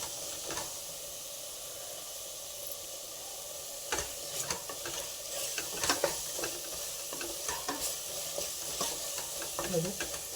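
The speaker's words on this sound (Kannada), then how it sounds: "ಇದನ್ನ ಇವಾಗ ಸ್ವಲ್ಪ ಫ್ರೈ ಮಾಡಿ ಸ್ವಲ್ಪ ಮಸಾಲೆ ವಾಸನೆ ಹೋಗುವವರೆಗೂ" Masala frying in oil in a pan while being stirred, a soft steady sizzle and hiss with intermittent scraping strokes that grow busier toward the end, quiet and close.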